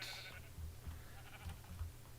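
Minecraft sheep bleat faintly in a few short, wavering calls in the game, with no one talking.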